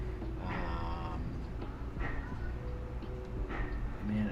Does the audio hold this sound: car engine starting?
no